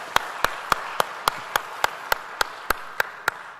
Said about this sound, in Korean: 서로 한번 박수하겠습니다